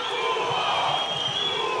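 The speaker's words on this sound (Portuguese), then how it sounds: "Torcida tá gritando burro pro Mozart" A football stadium crowd at a Guarani versus Red Bull Bragantino match shouting abuse at coach Mozart, a dense, sustained roar of many voices heard from a distance.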